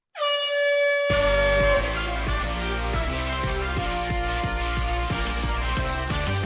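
A loud air horn blares, then a busy rhythmic music bed kicks in and continues underneath.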